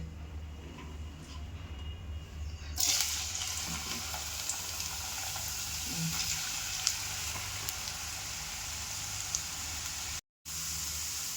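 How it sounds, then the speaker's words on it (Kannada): Homemade potato chips deep-frying in hot oil, a steady close sizzle and bubbling that swells as a fresh batch drops in partway through, with a brief dropout near the end and no talk. "ಗೋಲ್ಡನ್ ಕಲರ್ ಬರುವವರೆಗೂ ಕರ್ಕೋಬೇಕಿದ್ದನ್ನ."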